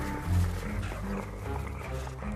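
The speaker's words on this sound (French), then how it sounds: "Nous sommes suivis par des loups." Low growling and snarling from a pack of wolves, a dense rumbling mass of animal sounds close by, steady throughout with no clear speech.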